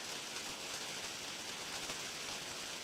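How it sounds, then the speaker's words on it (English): Steady rain heard as a dense, even hiss that stays constant throughout, fairly faint and with no talk over it. "Is it really loud, the rain?"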